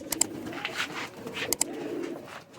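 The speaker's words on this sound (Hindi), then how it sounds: "असल ये कबूतर पीछे ना ये लगे हुए हैं" Pigeons cooing nearby in a bird-keeping setting, soft repeated coos with a few sharp chirps over low background noise, no speech.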